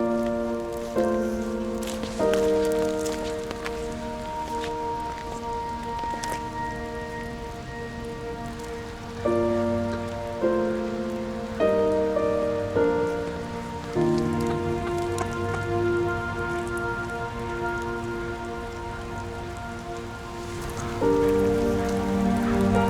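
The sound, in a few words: rain falling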